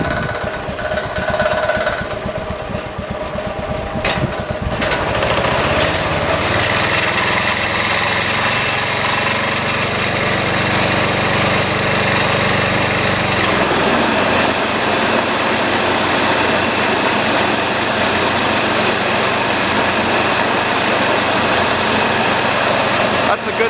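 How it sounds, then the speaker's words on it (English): A riding lawnmower's engine idles with its cutting deck engaged, a loud, steady close-up drone that settles into an even, low rumble partway through and runs unbroken to the end. "That's a good sounding deck right there"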